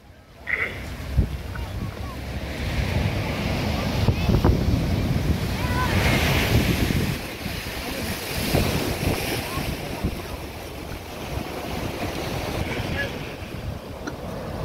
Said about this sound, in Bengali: দীঘার বঙ্গোপসাগরে সমুদ্র উত্তাল